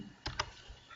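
Keys tapped on a computer keyboard while entering a spreadsheet formula, two quick faint clicks close together.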